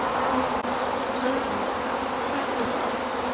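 Honeybees buzz at a hive that is being split into nucleus colonies, a steady, close, dense drone with no talking.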